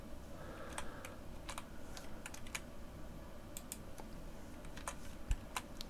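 Rapid, crisp keyboard clicks from hotkeys being pressed on a computer keyboard while working in 3D software, scattered taps and short bursts spread across a steady low background hum, close and moderately quiet with no talking.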